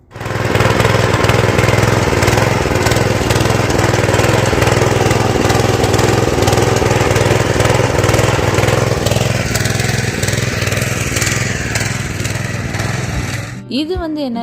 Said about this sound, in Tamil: அடுத்து நம்ம என்ன பண்ண போகிறோம்னா நம்ம பவர் வீடர் வச்சு உழுக போகிறோம்